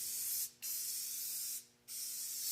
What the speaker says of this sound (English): nobody wants to sit there and watch me spray paint stuff